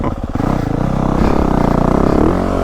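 A Yamaha YZ450F dirt bike rides through mud on a woods loop, its engine loud and close with a pulsing, revving four-stroke note and clattering chassis noise throughout.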